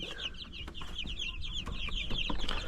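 Six young male chicks cluck and peep in a busy, continuous stream of short chirps, fairly close, with no voices over them.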